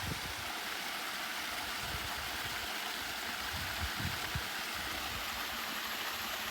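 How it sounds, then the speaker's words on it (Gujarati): Steady broadband rush of a waterfall in a calm outdoor spot where buffalo are grazing near a stream, a constant close roar with no voices. "ખાલી ધોધનો અવાજ આવે બીજો એક અવાજ ના આવતો"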